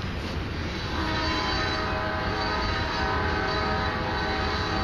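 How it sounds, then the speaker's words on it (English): A train passing close by outdoors at a metal detecting site, a loud continuous rumble and clatter with a sustained horn tone running through it, heard alone without talking. "You have to pardon the train behind me."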